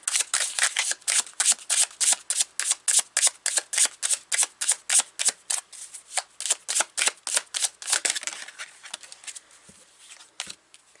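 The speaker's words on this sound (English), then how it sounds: "let's pull 3 more cards" Tarot cards riffle and snap in a rapid, even run of crisp flicks, close and clear, slowing and thinning toward the end with a few scattered taps and no talking.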